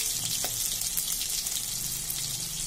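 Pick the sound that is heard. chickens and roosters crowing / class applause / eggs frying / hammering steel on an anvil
eggs frying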